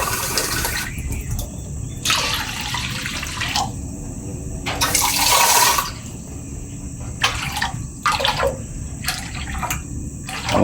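Water splashes and gurgles into a cooking pot for boiling cucumber shoots at a garden hut, poured in several uneven bursts, fairly loud and close with short breaks between pours.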